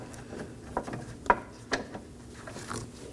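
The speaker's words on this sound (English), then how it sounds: "Once it's hand threaded on, I'm going to snug it down." Ratchet snugging down a 10mm horn bracket bolt on a 2018-2024 Chevrolet Equinox: faint, close metallic clicks and a few sharp ticks in short bursts, with quiet handling noise and no talk.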